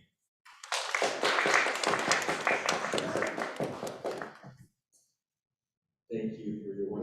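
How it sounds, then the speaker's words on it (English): Audience applause at a campus heritage celebration event, a dense burst of clapping lasting about four seconds that fades out, followed by a pause and then a person beginning to speak. "please give a round of applause for Frank"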